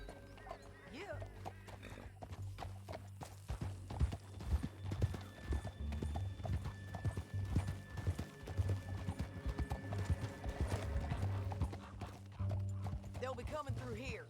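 Horse hooves clip-clop at a steady gallop in Red Dead Redemption 2, with an occasional whinny, running throughout under a bed of game music and sporadic talk.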